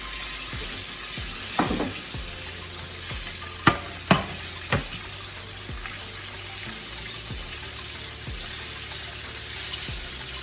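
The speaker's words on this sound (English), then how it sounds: "And I am frying this chicken in peanut oil." Chicken breasts frying in peanut oil, a steady sizzle with crackling pops throughout, a few sharper clinks and taps standing out near the middle; no voices.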